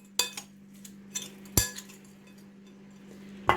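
A utensil clinks and scrapes against a pan while mixing a garlic and ginger prawn stir fry with onion and spring onion; a few sharp, separate metallic taps stand out over a quiet background hum.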